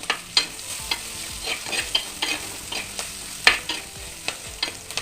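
Vegetables fry in a pan with rock salt, for a Kerala koorkka (Chinese potato) curry. The sizzle runs steadily while a spatula stirs with repeated sharp scraping clicks, close and fairly loud.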